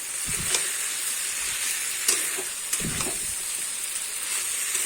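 Banana blossom and prawn curry with a paste of onion, garlic, ginger and cumin fries in a pan, giving a continuous close sizzle and hiss with a few clinks and stirring knocks.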